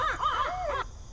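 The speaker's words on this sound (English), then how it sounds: "we're going to broadcast the territorial call" A loudspeaker plays a recorded barred owl territorial call, broadcast outdoors in owl habitat, a burst of loud, wavering, cackling hoots lasting under a second before cutting off to quiet background.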